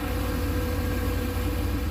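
A boosted LS engine idling in gear, a loud, steady low rumble with an even throbbing pulse, close and continuous with no talking.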